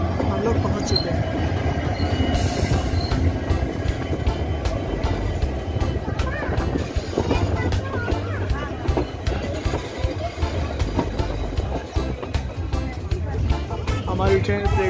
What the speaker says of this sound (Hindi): हमारी ट्रेन प्लेटफॉर्म नंबर 3 पे आ गई है, बस थोड़ी देर में रुक जाएगी